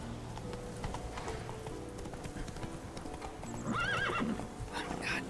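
A horse's hooves clip-clopping in The Witcher 3: Wild Hunt, a steady rhythmic trot with a loud neigh and whinny breaking in near the end.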